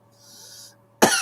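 A person coughs after a bong hit, a single loud, harsh burst close by that follows a brief faint breathy hiss and otherwise near-silence.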